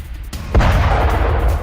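A heavy explosion from an attack on Kalantari port in Chabahar: a sharp crack followed by a loud, rumbling boom that sustains as a roaring wash, close and powerful, with no voices.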